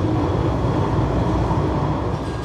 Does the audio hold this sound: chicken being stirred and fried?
no